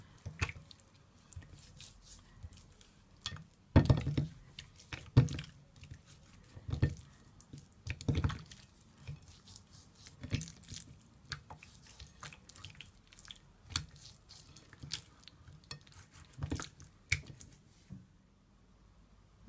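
A hand massages fish fillets with garlic seasoning, giving soft, intermittent wet squishes and pats, quiet and close, with irregular gaps between them and no talk.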